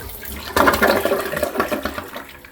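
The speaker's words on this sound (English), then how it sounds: "we're going to flush and watch down here." A toilet tank flushes with the seat removed, beginning with a sudden loud rush of water that gurgles and swirls into the bowl, then tapers off toward a quieter draining trickle.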